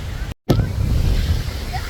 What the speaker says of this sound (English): It's so windy here.